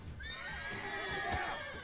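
A horse in The Witcher 3 whinnies in a long, wavering neigh that rises and falls, loud and close, with faint hoof-like thuds underneath and no speech.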